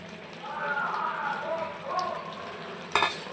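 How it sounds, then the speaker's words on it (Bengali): Dried fish curry with eggplant, potato and tomato stirred in a pan, soft scraping and gentle sizzle for a few seconds, ending in a sharper clatter. "ভালো করে মিলিয়ে নেব"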